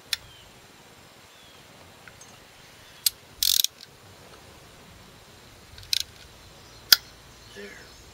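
A ratchet works on the tight spark plugs of a Ford Mustang, making sparse, sharp mechanical clicks and one short burst of ratcheting against a quiet background.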